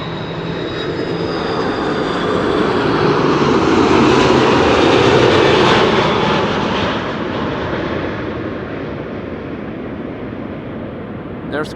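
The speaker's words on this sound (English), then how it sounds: "you're also start hearing the second engine of the 777," A Boeing 777 jet engine spools up at Amsterdam Schiphol Airport, a broad roaring rush that swells in the middle and then eases to a steady distant whine.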